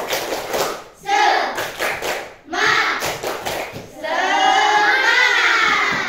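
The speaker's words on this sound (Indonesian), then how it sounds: "Tepuk semangat." Schoolchildren in an Indonesian classroom perform a rhythmic spirit clap, sharp group claps in patterned bursts with pauses between, close and loud, ending with the class shouting together.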